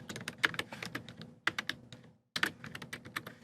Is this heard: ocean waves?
no